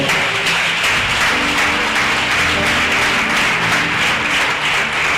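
Congregation in a church clapping together in sustained, dense applause, loud and steady from start to finish with no talking over it.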